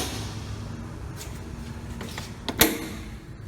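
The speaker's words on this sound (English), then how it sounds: "in order to run the machine, all we have to do is we close the doors" Doors on an NS DM 1100 C machine that processes perforated stainless steel swing shut, a brief double knock and clatter late on, over a steady low machine hum.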